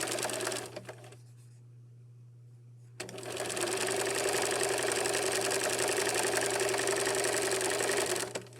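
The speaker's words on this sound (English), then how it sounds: "now I'm just going to stitch it down" Sewing machine stitching fabric down, a steady loud whirring run after a brief pause, close and continuous with no talk over it.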